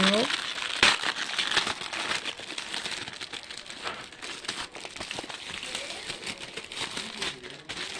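Plastic wrapping on a children's magazine package is ripped open, giving a loud, continuous crinkling and crackling close by, with a voice talking over it.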